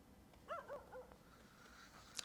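A dog in Hades 2 gives a few quick, faint yips and whimpers over quiet game ambience, followed by a short bright chime.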